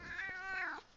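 A house cat gives a single drawn-out, wavering meow that rises and bends before cutting off, close to the microphone with no talking over it.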